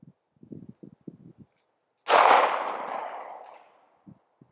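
A single sharp handgun shot at an outdoor shooting range rings out loudly, its report decaying over about a second, with faint clicks and handling sounds before and after.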